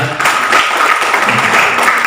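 A church congregation bursts into loud, continuous clapping after a call to applaud God, a dense wash of hand claps that holds steady throughout.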